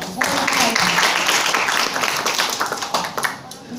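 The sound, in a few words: audience applause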